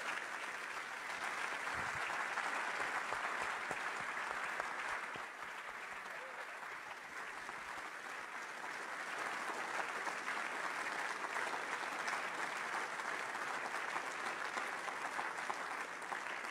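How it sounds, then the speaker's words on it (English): Steady audience applause at a lecture fills the room, dense and continuous clapping at moderate volume, sounding somewhat distant, with no speech over it. "I thought we might just erupt into applause for Keith Bradshaw, Johnny Woodcock, and Ted"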